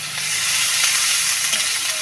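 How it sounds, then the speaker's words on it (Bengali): Chopped onions sizzle hard in hot oil in a pan, a loud, dense, continuous hiss with occasional stirring scrapes close by. "পেঁয়াজ কুচনো কিছু দেওয়া হচ্ছে,"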